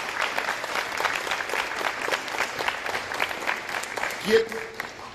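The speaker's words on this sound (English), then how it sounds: "If you give them a round of applause." An audience applauds for Milwaukee school directors, a fairly soft, steady round of clapping with a voice briefly audible near the end.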